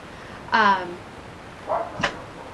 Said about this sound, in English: I've got barking dogs.